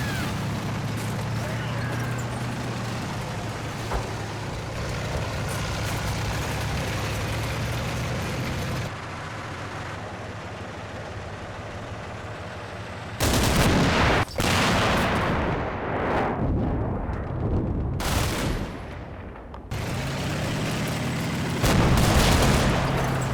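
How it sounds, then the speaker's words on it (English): Tank main gun firing high-explosive rounds alongside machine gun fire in the Combat Mission Red Thunder war game, with a steady rumble of battle giving way to sharp, loud bursts and blasts in the latter half. "one of the tanks moves up to send a couple of HE rounds over"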